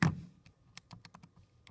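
Quick series of light plastic button taps on a calculator, about eight presses close together after a brief opening thump, quiet and close with no talking.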